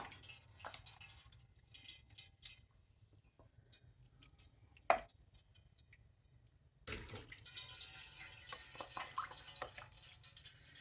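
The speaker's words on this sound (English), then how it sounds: "I'm running them through my strainer here and separating the bones from the broth." Hot turkey broth poured through a strainer to separate the bones, with faint dripping and trickling, a sharp clink, then a louder burst of pouring liquid near the end, no voices.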